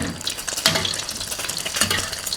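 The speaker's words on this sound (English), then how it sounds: "this is fried egg in Thai style. We use oil" A Thai-style egg frying in hot oil, a continuous close crackling sizzle with brief spattering bursts and a few utensil scrapes, no voices.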